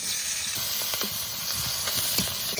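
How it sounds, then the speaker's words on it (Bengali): Chopped onion and slit green chillies hit hot oil left from frying fish, giving a steady, close, bright sizzle and hiss that runs without a break, with small crackles popping through. "তা প্রথমে দিয়ে দেবো পেঁয়াজ কুচি আর কাঁচা লঙ্কা চিরা।"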